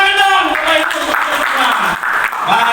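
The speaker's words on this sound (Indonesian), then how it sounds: "Tepuk tangan dong." Audience applause at a school training session, scattered clapping under a prominent voice that keeps talking throughout.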